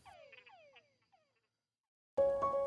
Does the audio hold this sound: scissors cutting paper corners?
no